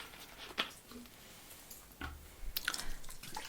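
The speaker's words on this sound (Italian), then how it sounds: "bagnarmi un pochino le mani con l'acqua florida" Soft wet squishing and light splashes as hands are moistened with Florida water during a close-miked ASMR scalp and neck massage, with a few quiet isolated squelches.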